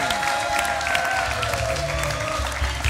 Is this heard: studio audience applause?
yes